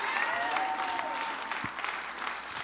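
A church congregation breaks into steady, dense applause, a crowd of hands clapping at moderate distance, with some voices faintly audible underneath.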